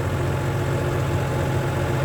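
A Harman tractor engine idles steadily close by, a low throbbing chug with constant vibration and no changes in pace, heard alone without voices.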